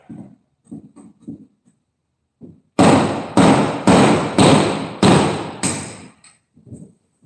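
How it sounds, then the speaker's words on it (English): A series of six loud, sharp thuds in an even rhythm as holes are punched into old, decrepit wood, with softer knocks before and after. "we're gonna punch a couple holes in this wood"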